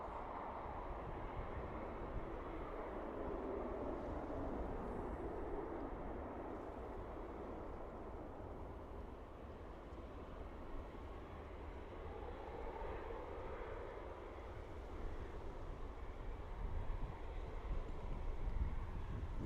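A SunExpress airliner in Star Trek livery at Dublin Airport produces a faint, steady distant jet engine rumble, a continuous low roar holding evenly throughout with no voices.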